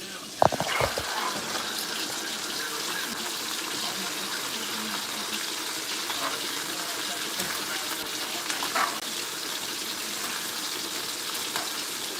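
Regular milk poured into a cooking pan, a soft steady gush and sizzle that runs faintly and evenly throughout after a brief knock at the start.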